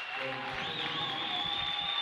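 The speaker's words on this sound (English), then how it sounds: "applause for guys, especially seniors" Crowd applause at a high school boys basketball state tournament game, Milford versus Rich, honoring senior players; steady, moderately faint clapping fills the whole stretch under an announcer's voice.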